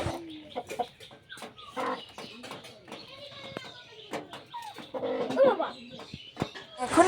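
Desi hens cluck and call repeatedly near an egg crate at a village home, with short bursts of clucking scattered over the whole span, some close and loud, among general yard activity.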